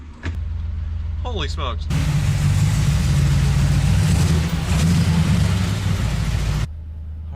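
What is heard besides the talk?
car engine starting up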